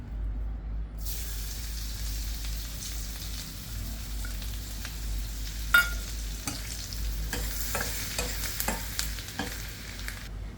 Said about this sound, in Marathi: आता मी त्याच्यात लसूण आणि मिरची परतून घेते।